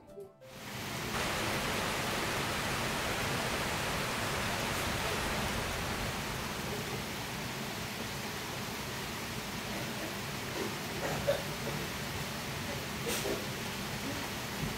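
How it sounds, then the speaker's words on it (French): Rain falls outside on a grey day, a steady, even wash of hiss that holds at a constant level throughout with only a few faint knocks. "aujourd'hui il pleut"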